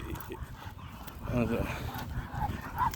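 A little dog whimpers and yips softly in short, thin bursts, fairly quiet and close, with a person talking around it.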